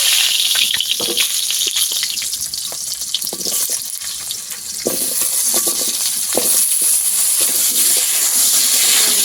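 Potatoes go into hot oil in a wok and fry loudly with a steady bright sizzle. Intermittent clatters of stirring sound throughout, and the hiss grows fuller midway.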